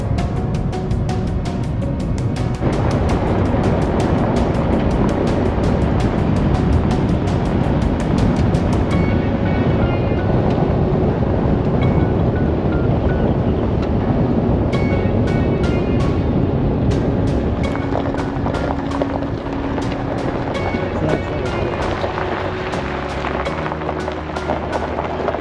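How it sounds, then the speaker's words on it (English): A cold Arctic wind in Iceland roars continuously and loudly against the microphone, a dense broadband rush with no pauses. "You definitely feel that Arctic wind up here."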